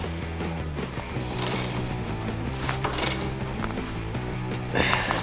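A ratchet tightens a leaf spring bushing bolt on a vehicle suspension, giving a steady run of close mechanical clicks and ratcheting over a low background hum, with a few louder bursts toward the end.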